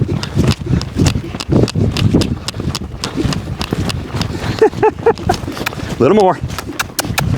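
Hooves of a young colt being started under saddle as it moves into a lope, rhythmic thuds and clip-clop beats close by while a trainer talks over them.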